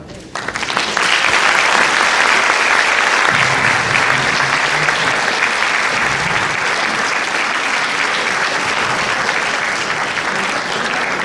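A large audience at a Dutch tribute show bursts into loud, sustained applause that swells quickly and holds steady for several seconds, dense and close, with faint crowd voices mixed in.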